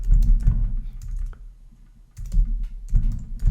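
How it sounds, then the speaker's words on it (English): Clattering keystrokes on a computer keyboard in two quick bursts separated by a short pause, close and fairly loud with no speech. "Type it in, hit return"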